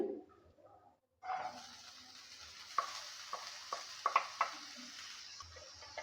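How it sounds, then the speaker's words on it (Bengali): Grated coconut sizzles gently in a kadai over a gas flame while a utensil stirs it, with several sharp scraping clicks against the pan over a soft frying hiss. "এবার এই কড়াইয়ের মধ্যে দিয়ে দিচ্ছি নারকেল"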